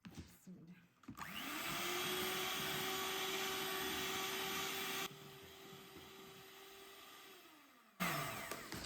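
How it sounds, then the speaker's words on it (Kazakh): An electric hand mixer beats batter for a carrot pie, a steady close whine running for several seconds with a brief drop in pitch, then stopping abruptly. "Енді осыны қазір тағы да жақсылап бір миксерлеп жібереміз."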